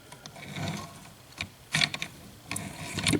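An M1A rifle's bolt being lifted out during a field strip, giving a few short metallic clicks and scrapes at close range, alone and fairly quiet.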